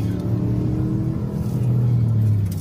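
A fleeing Mercedes accelerates hard on an empty road during a police chase, its engine note rising in a loud, close, continuous roar that swells toward the end.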